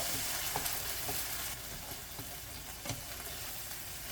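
Tomatoes being gently stirred into a sizzling one-pot spaghetti bolognese in a pan, a steady hiss of frying with soft scraping and wet squelches from the spoon, quiet and close, no voices.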